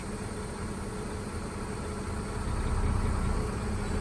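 A tractor-trailer truck engine idles in low gear with the clutch slowly released during a brake test, a steady low rumble with faint vibration that swells slightly toward the end.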